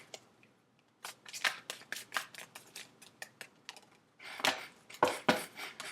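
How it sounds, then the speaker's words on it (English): Close, crisp bursts of tarot cards being shuffled, a quick riffling series, a short pause, then a louder flurry of shuffling. "Last shuffle."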